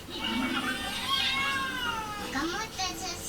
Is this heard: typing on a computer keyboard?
no